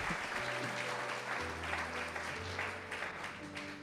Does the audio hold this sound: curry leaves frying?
no